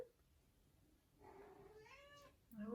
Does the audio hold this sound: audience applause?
no